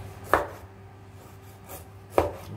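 Two sharp knife chops through ostrich tendon on a cutting board, about two seconds apart, with a steady low hum underneath.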